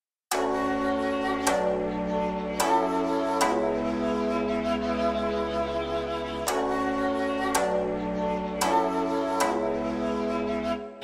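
A warm synthesizer pad, the Far East preset from Expand, plays sustained chords that change every second or two in a slow, looping progression, with no voices.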